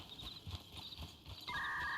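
Horse hooves clip-clop in the RedM western game, a steady rhythmic series of moderate hoofbeats with a sustained tonal game sound joining near the end.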